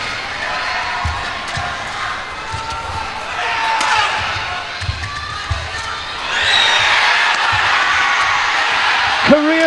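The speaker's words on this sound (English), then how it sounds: "Listen to this crowd." A badminton World Championship crowd roars at match point in the men's doubles final, with loud sustained cheering and shouting that swells further toward the end, and bursts of commentary over it.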